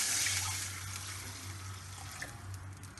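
Water pours steadily into a pot holding chopped tomato for garlic Mysore rasam, a continuous close splashing rush like a running tap, with no voices.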